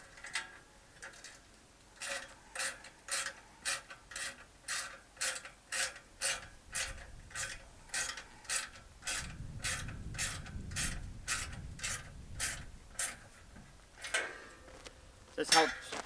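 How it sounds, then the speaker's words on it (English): Wrenches tighten bolts on a hammock stand in a bus conversion, giving a quick run of evenly spaced ratcheting clicks and faint metallic creaks, close but fairly quiet. "I have to use some wrenches right now"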